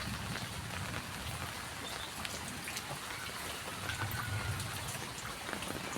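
Rain falls steadily in a stormy village setting, a soft, even patter on surfaces lasting throughout without pause.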